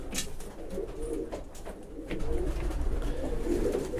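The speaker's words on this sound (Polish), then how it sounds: "bazarkowe gołębie." Market pigeons coo in repeated soft, low throaty calls, fairly close, with some light background rustle.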